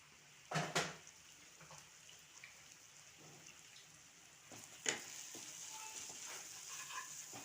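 Curry ingredients with green chillies, chilli powder and salt fry in a pan, a faint, soft sizzle broken by a few sharp stirring clinks near the start and middle.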